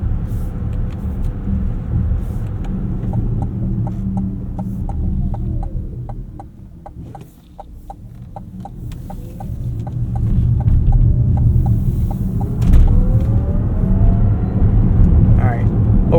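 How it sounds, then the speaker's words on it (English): A 2024 Chevrolet Blazer EV RS on 21-inch wheels rolls over bumps and potholes, heard from inside as a low road rumble and hum with dull thumps, a quieter dip midway, then heavier rumbling. "Over some bumps, some potholes."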